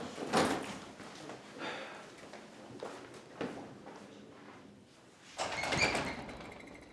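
A door being opened or closed nearby, with faint knocks and rattles, a couple of soft thuds and a louder bump near the end, under low background noise.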